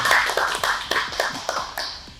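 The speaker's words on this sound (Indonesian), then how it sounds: "nah, tepuk tangan dulu." A handful of sharp hand claps ring out in an uneven rhythm, close and fairly loud, sounding like a small group clapping briefly.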